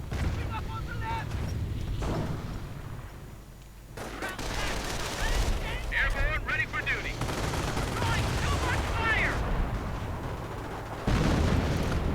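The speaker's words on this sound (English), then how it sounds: "More counter battery fire against the German artillery positions." Artillery and gunfire rumble through a WWII strategy game battle, with continuous booms, bursts of shooting and scattered explosions, while someone talks over the din.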